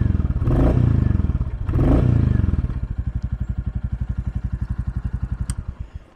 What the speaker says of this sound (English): Let me give this just a couple small revs for you.